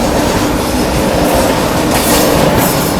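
The 22221 Mumbai CSMT–Hazrat Nizamuddin Rajdhani Express runs on the rails with a loud, continuous roar of wheels and rattling carriages heard close from on board, steady throughout.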